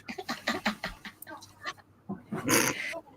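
A puppy gives a run of short whimpers and yips followed by a brief rough growl, close and fairly quiet, with a voice briefly in the background.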